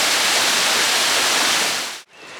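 The Salto de la Novia waterfall in Navajas, Castellón, gives a loud, steady broadband rush of falling water that cuts off abruptly near the end, then returns more softly.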